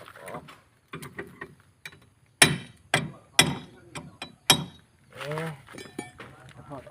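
Sharp metallic hammer strikes drive an old bearing race out of a Lao farm tractor's hub. About half a dozen loud, uneven clanks ring close by, with someone talking quietly between them.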